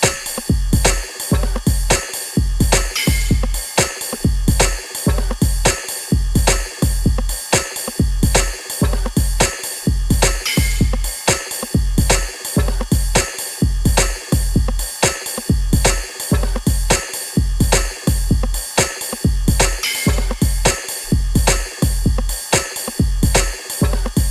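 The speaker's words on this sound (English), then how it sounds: "very, very simple sort of electro beat" A simple electro drum beat with lots of percussion plays: punchy kicks and crisp hats repeat in a tight, steady loop, loud and continuous with no voices.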